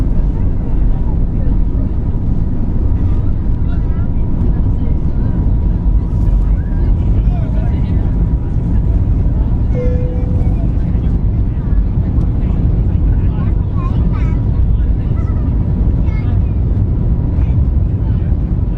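Cabin noise aboard a Novair airliner taking off, a loud constant low roar of engines and airflow filling the cabin, with faint scattered chatter and clinks underneath.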